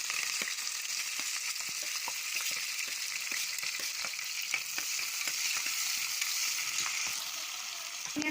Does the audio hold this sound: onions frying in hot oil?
yes